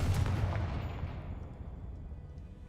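A Confringo blasting spell in a wizard video game goes off as one loud, deep explosive boom that rolls away into a long fading rumble, with no voices.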